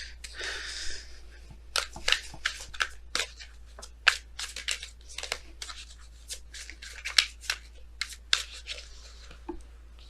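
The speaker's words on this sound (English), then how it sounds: "Let's go ahead and pull your romance angels cards for today" Tarot cards are shuffled and drawn by hand in a quiet room, a quick run of crisp riffles, slides and snaps rising and falling in short bursts over about ten seconds, with no voice.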